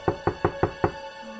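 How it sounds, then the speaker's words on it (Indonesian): Someone knocks on a bathroom door, five sharp, evenly spaced raps close by with nothing else around them. "Aku pun mengetuk pintu kamar mandi itu."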